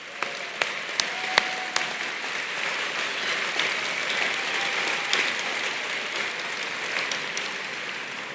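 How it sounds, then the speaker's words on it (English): Audience applause at an engineering graduates recognition ceremony in 2024, a sustained, even wash of clapping from a large crowd with a few sharper claps standing out. "we give you a big round of applause"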